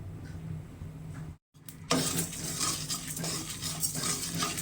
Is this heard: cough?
no